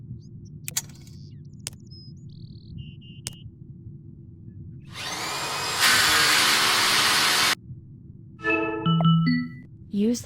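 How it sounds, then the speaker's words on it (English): In a VR gas leak investigation game, a low mechanical hum, then a drill whirs loudly for about three seconds boring a hole in the ground and stops, followed by electronic beeps and tones. "Perform a diamond check by drill a hole about 5 feet to the north."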